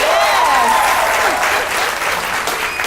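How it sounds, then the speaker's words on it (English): A studio audience applauds with dense, steady clapping that fills the whole moment, with a few faint voices and whoops mixed in. "Please give yourselves a round of applause."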